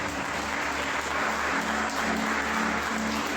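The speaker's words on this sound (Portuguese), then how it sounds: "Dê para Jesus uma linda salva de palmas" A church congregation claps together during a worship service, a brief, dense burst of steady applause filling the room at close range, with no one speaking over it.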